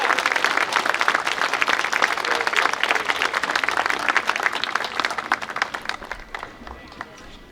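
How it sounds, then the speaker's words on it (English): A crowd at a St. Mary's County Veterans Day celebration gives a big round of applause, loud and dense for several seconds before thinning out and fading near the end. "Let's have a big round of applause for them one more time"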